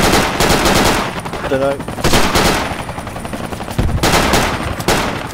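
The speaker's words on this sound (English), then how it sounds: "Enemy machine gun on the attack mark, exactly there" An enemy machine gun fires in the military shooter game Project Reality, with long rattling bursts separated by short gaps, loud and close, while a voice briefly talks over the gunfire.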